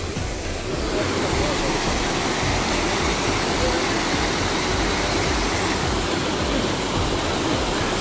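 Fast-flowing water at the Vaishno Devi pilgrimage route rushes in a loud, unbroken roar, dense and steady throughout, like a stream or outflow heard up close.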